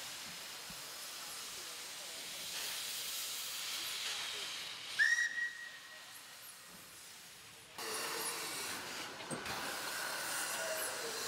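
A preserved steam locomotive releases long bursts of hissing steam, faint and broadband, with a brief high whistle-like squeal in the middle and a sharp jump in the hiss near the end.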